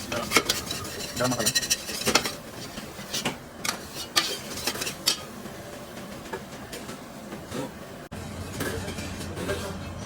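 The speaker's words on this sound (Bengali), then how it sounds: "দেখতে পাচ্ছ মশলা অ্যাড করে দেওয়ার পর সুন্দরভাবে মশলাটা মিক্স করে নিতে হবে।" Spices being stirred and fried for biryani in a pan, with scraping utensil strokes and clinks against the metal, light sizzling underneath, and a rhythm of separate stirs across the whole stretch.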